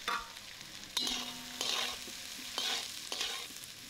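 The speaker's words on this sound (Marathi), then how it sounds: "कांदा चांगला लाल होईपर्यंत आपण परतून घ्यायचा आहे" Chopped onion with mustard seeds and cumin frying in oil, a close crackling sizzle broken by several scraping stirs of a spoon against the pan, with no voices.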